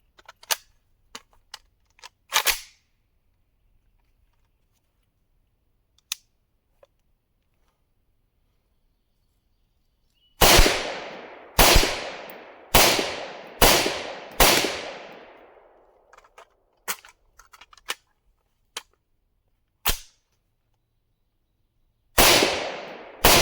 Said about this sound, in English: So we're going to see how we shoot with the optic completely blocked